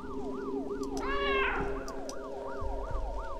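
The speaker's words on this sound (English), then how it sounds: "Is that a cat?" A cat meows once, a rising-and-falling drawn-out call, inside a school at night in the horror game The Kokeshi Curse, heard over a steady warbling siren-like tone with no talk.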